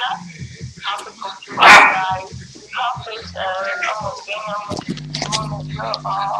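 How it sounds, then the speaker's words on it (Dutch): Small dogs scuffle and bark in a loud burst of yips, whimpers and sharp barks, close by, with human voices mixed in around the noise. "Vechtende hondjes"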